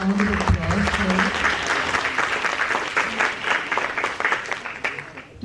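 Applause rises for a university department at an international education conference, crowd clapping continuing throughout with a voice speaking over the start.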